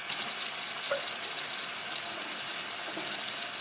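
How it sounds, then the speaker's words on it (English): Water runs steadily from a tap into a sink for handwashing, a continuous close hiss with no voices over it. "Turn on water."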